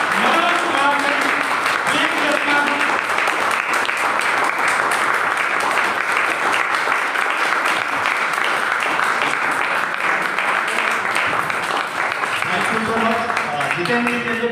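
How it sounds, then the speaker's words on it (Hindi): A large audience at a stage event applauds loudly and continuously, a dense wash of clapping that stays steady throughout, with music and voices blending underneath. "एक बार जोरदार तालियां होनी चाहिए"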